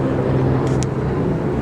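An aeroplane drones overhead as a loud, steady low rumble filling the whole stretch without letup, alone with no talking.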